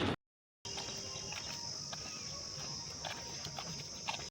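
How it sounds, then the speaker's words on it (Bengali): Crickets chirp in daytime on a Kalyani University campus, a steady high-pitched trill running continuously with a few sharper clicks and faint footsteps mixed in, fairly quiet and heard without any talk. "দিনের বেলায় ঝিঝি পোকা ডাকছে"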